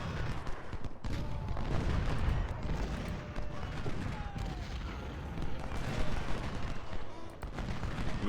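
Sharpshooter volleys crackle and boom continuously in the Civil War strategy game Ultimate General: Civil War, a dense rolling barrage of musket and artillery fire with scattered louder reports, steady and loud throughout, with faint talk mixed under the battle noise.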